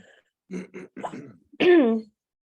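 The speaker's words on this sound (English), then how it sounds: "I have to clear my throat." Someone clears their throat up close: a couple of short rough coughs, then a longer, voiced rasping clear.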